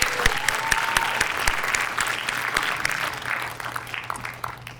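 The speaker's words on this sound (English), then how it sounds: "One more round of applause for the BFA class of" An audience claps for a graduating BFA class at a commencement ceremony, a crowd of many hands with a few sharp individual claps standing out near the front, tapering slightly toward the end, no speech over it.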